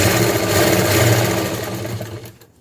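A sewing machine stitching the waist of a pair of trousers, a fast steady mechanical whirr up close, running loudly and alone before slowing and stopping at the end.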